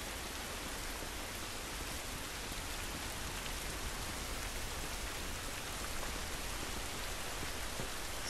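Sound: rain in a video game

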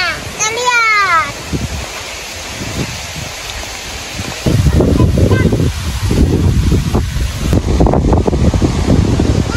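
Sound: strong wind blowing over a peanut field

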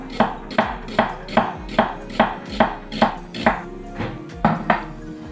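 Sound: knife chopping a large onion into strips

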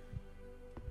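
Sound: heartbeat in the video game Maid of Sker

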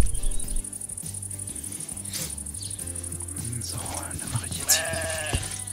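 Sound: sheep bleating in Minecraft video game

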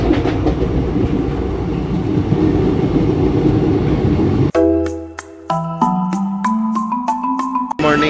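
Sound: express train entering a station

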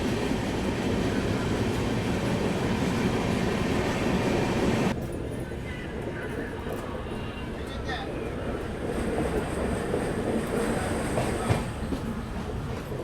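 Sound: Bengaluru Belagavi Superfast train running on rails

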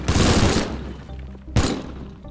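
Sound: pipe collapsing in Teardown video game

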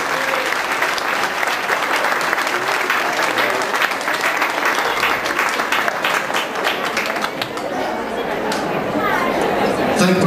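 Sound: applause for a women's church choir

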